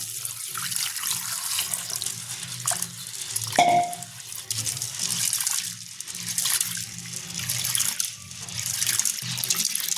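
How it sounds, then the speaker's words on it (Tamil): Tap water runs steadily into a pot as a quarter kilo of chana dal (split chickpeas) is rinsed in a village kitchen, with a brief metallic clink partway through. "நாங்கள் தண்ணி ஊற்றி எல்லாம் கழுவுவோம்"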